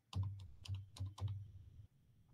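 Keys clatter on a computer keyboard as a line of lcd.print code is typed, in a few quick close bursts of clicks over a steady low hum, then a short quiet tail.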